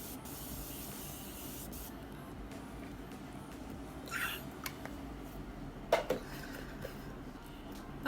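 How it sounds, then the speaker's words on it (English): A cosmetic setting spray is misted toward the face during a makeup routine, giving a few short, soft hissing bursts over a quiet room with faint handling noises. "Use a little bit of setting spray."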